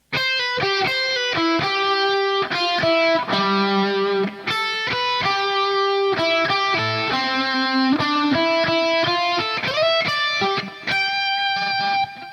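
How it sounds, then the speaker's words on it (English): Distorted electric guitar plays a lead line, notes moving up and down with sustained bends, over steady chords, ending on a high G, loud and continuous, no voices. "Then guitar 1 is going to do this lead"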